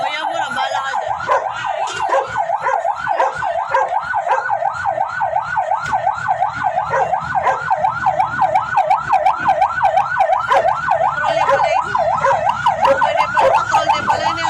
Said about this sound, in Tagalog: Patrol din pala yun yung ambulansya.